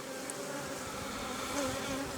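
Honeybees buzz steadily around hive frames pulled from two hives to start a small split, a continuous close drone with a few individual bees passing near, no talk.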